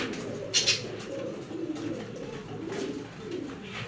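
Female pigeons coo softly nearby, their low, rolling calls steady beneath a faint background hum, with one brief brighter sound early on.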